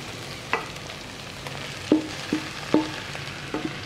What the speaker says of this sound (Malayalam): നമുക്കിതിലോട്ട് നമ്മൾ ഗ്രേറ്റ് ചെയ്ത് വെച്ചിരിക്കുന്ന ബീറ്റ്റൂട്ട് ചേർത്ത് കൊടുക്കാം.